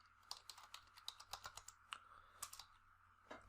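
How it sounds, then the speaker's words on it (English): Close, rapid keystrokes on a computer keyboard while code is typed for a React.js e-commerce API, with irregular bursts of crisp clicks and short pauses and no voices. "I can simply type here"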